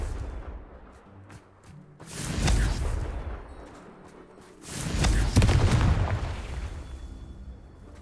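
Two heavy booming bursts from the Confringo blasting spell in Hogwarts Legacy, the second louder and longer, each trailing into a crackling rumble, with faint ticking game sounds between them.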